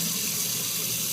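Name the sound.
hot water running from a tap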